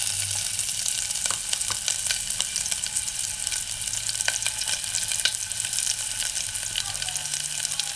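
Oil and shallots sizzle in a pan for a stir fry, a steady close crackling hiss with scattered pops and faint clinks, continuous and without talk.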